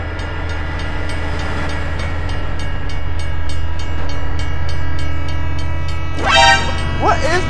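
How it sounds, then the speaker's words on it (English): Train in the BeamNG driving game rolling past a level crossing with a steady loud rumble and a horn blast near the end, as a person exclaims over it. "Oh my god, train!"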